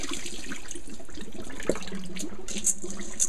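Water drains and trickles from washed lentils (dal) in a kitchen sink. It makes a steady close splashing with one brief clunk midway, and no one speaks.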